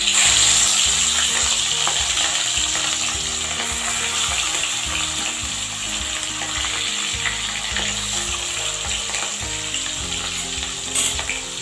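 Rohu fish frying in hot mustard oil, a steady loud sizzle and crackle that holds throughout, close and continuous with no voices.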